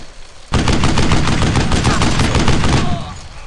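Dense covering gunfire in the World War II video game Brothers in Arms: Earned in Blood, a loud sustained burst of rapid automatic shots lasting a few seconds, with no talk over it.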